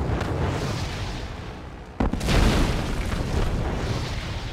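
Artillery guns firing in a real-time strategy game battle, a steady roar of explosions with a sharp heavy blast about two seconds in, followed by continuing booming rumble.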